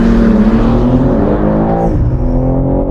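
A BMW M3 engine revs hard and loud up close, a dense, shouty drone with rising harmonics that swells and shifts pitch across three seconds without pause.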